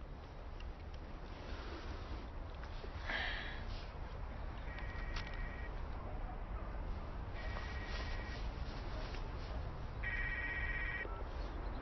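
A telephone rings in short repeated electronic bursts, three or four rings spaced a few seconds apart over steady background noise in an Irish film scene.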